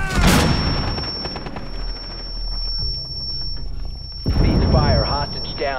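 A breaching charge goes off in Rainbow Six Siege, heard as a loud, sudden blast with a rumbling low tail near the start. Gunfire and game noise follow, with voices talking over the action.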